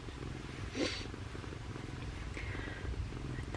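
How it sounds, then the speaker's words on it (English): Louis the cat purring on a heated blanket, a soft, close, steady rumbling purr that keeps going throughout at low volume. "Louis is purring away."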